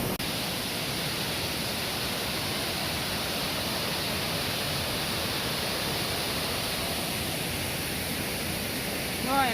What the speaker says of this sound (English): Here's a stream of water.